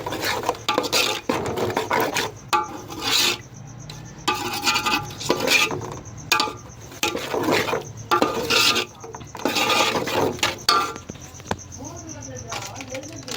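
Tomato puree being stirred into onions in a pan for a South Indian fish kulambu, with repeated scraping and clinking of a spoon against the pan in uneven bursts, close and moderately loud, with no talk.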